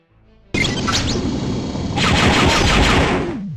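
Blaster fire in the Star Wars: Dark Forces Remaster game, loud rapid bursts of shots erupting abruptly and intensifying into a dense, crashing barrage before cutting off, with no speech.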